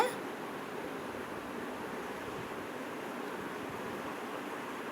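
Water rinsed from a mixie jar is poured into a pot of white kurma (vellai kurma) as it cooks, a soft, even rushing splash running continuously for several seconds with no voices.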